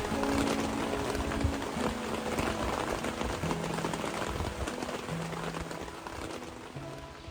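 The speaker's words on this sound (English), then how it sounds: "turned in shortly before the rain began to fall" Steady rain patters and hisses on a surface in George Washington National Forest, with a faint low tone drifting underneath, continuous throughout.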